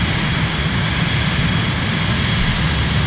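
A continuous, loud jet whine and rush from the Cirrus SF50 Vision Jet in Microsoft Flight Simulator, a steady in-flight engine drone with no voices over it.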